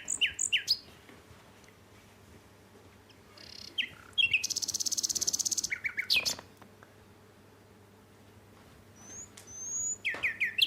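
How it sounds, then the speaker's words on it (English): Common nightingale singing at RSPB Minsmere in Suffolk, a clear outdoor bird song of varied whistles, chirps and a rapid buzzing trill, delivered in bursts separated by pauses, fairly close and alone over faint background hum. "for those that haven't heard a nightingale, because many of us haven't, let's just have a little listen to the song of one"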